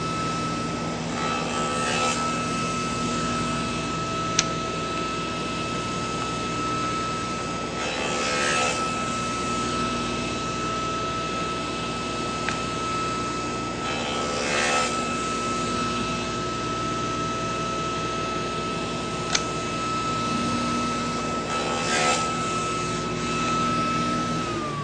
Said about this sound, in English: I'm just going to very quickly saw a series of grooves in this dowel